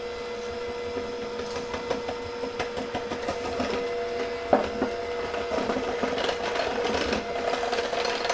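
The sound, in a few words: mixer mixing Jell-O pudding for marble pie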